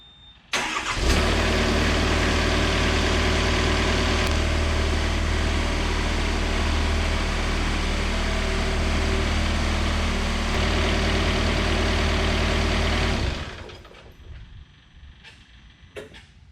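A serviced Takeuchi TB260 compact excavator diesel starts and idles loud and steady nearby, a constant low rumble with a mechanical hum for about twelve seconds before shutting down and dying away.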